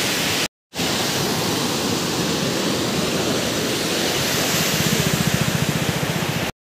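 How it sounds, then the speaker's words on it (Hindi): A swollen river rushes strongly, a loud continuous roar of churning water heard up close, with a brief dropout near the start and a slightly pulsing texture toward the end. "भाई बहुत जोर से ले रही नदी।"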